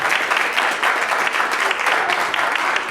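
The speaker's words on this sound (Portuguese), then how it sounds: "Agora sim, uma salva de palmas." An audience at a science outreach closing ceremony breaks into steady, loud applause, a dense and even wash of many hands clapping that fills the whole span without pause.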